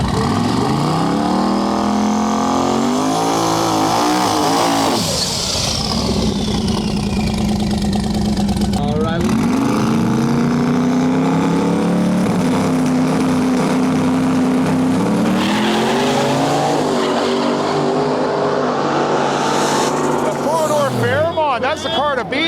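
A Ford Fox body drag car runs on an outlaw street drag strip, its loud engine droning and revving with a rising roar toward the end, while an announcer talks over it throughout.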